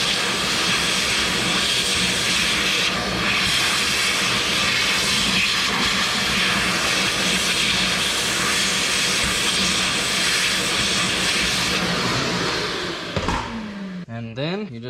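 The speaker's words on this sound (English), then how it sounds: "I'm going to grab the shop vac and suck all this off" A shop vacuum roars steadily and loudly while sucking debris out of a car's heat and air conditioning vents, a continuous broadband whoosh that runs almost unbroken before cutting off near the end.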